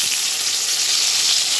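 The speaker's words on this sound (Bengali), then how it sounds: "বেগুন ভাজা হচ্ছে" Eggplant slices frying in hot oil in a pan, a loud, close, continuous hissing sizzle with no pauses and no talking.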